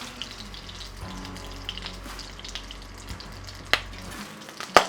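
Large peeled pearl onions fry in butter and olive oil, a soft, continuous sizzle with occasional clinks and sharp taps, fairly quiet and without speech.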